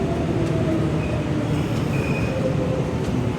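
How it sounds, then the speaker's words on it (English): A Nara line train decorated with deer runs past nearby, a loud, steady rumble of wheels and carriages with faint squeals over the continuous roar. "it's the Nara train with all the deer on it"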